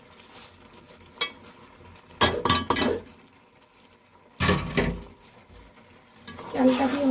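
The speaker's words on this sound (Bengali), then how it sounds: "চালটা দিয়ে ভালো করে নেড়ে নেব চিকেনের সাথে" Washed, drained rice is stirred into chicken in a pot, with a few loud scraping, clinking bursts of the spoon against metal separated by quieter sizzling.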